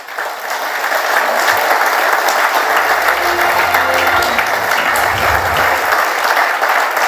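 Loud, sustained applause from a large audience at the Ramnath Goenka Excellence in Journalism Awards ceremony, dense clapping that swells in and holds steady throughout.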